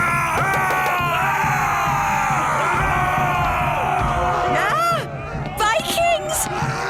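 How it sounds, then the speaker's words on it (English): Cartoon Vikings run around shouting, a rowdy crowd of yells, whoops and bellows layered over one another, loud and continuous, breaking into a few separate shouts toward the end. "Vikings! Running around and shouting."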